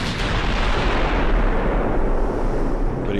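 Heavy 15-inch naval gun fire in the warship game Ultimate Admiral Dreadnoughts: a loud, sustained broadband boom with deep low-end rumble that slowly fades over about three seconds, with no voices.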